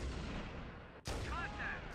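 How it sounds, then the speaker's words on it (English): Weapon fire from the PC game Halo Combat Evolved, aimed at a Grunt in a turret, gives a dense rumbling blast that cuts off briefly and then comes back with a sharp new burst and a ringing tail, loud and close. "I'm gonna shoot the grunt in the turret, okay?"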